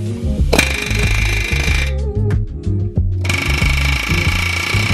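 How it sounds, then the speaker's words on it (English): Rapid, loud mechanical hammering from an air hammer on a seized, rusty brake rotor screw of an Acura RSX rattles in bursts, stopping briefly midway before resuming, close up. "I hit it with an air hammer."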